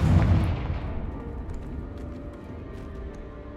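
A Confringo fire-blast spell goes off in the video game Hogwarts Legacy, a deep booming explosion at the start that rolls off into a fading rumble with faint crackles.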